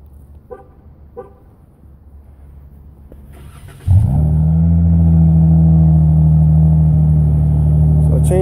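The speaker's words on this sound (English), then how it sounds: "Also got the exhaust changed out, turned on the car." A few quiet clicks, then a 2014 Dodge Challenger engine starts with a sharp burst and settles into a loud, deep, steady idle with a throaty aftermarket exhaust rumble.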